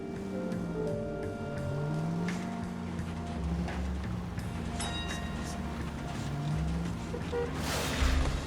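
Car braking with a tire squeal in the video game L.A. Noire, a steady vehicle rumble with a rising screech near the end, loud and close, no talk over it.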